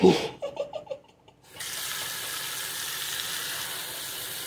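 Tap water pours steadily into a pot to cover eggs for boiling, a continuous hissing rush that starts after a few brief clinks and a short pause.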